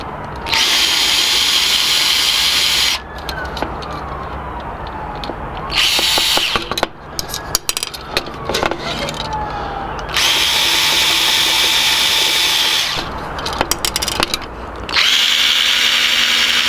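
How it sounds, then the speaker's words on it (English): An electric screwdriver whirs in loud, repeated bursts while building bicycle wheels for a 1963 Moulton Deluxe, with clicks and handling noises in the pauses between runs. "so I'm going to go and find an electric screwdriver"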